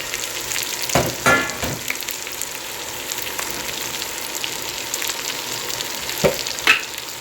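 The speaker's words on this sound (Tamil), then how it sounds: "சின்ன வெங்காயம், பெரிய வெங்காயம் வெட்டி வச்சது, 3 பச்சை மிளகா, 10 பூண்டு, கருவேப்பிலை எல்லாத்தையும் போட்டு" Sliced small and large onions, green chillies, garlic and curry leaves fry in a pan with oil, giving a steady close sizzle with a few stirring scrapes and clatters throughout.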